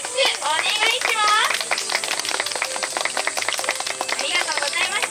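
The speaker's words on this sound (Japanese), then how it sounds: "皆様大きな拍手お願いします" Audience applause rises at an outdoor zoo bird show after a hoop-flying trick, steady clapping throughout with children's voices and an announcer talking over it.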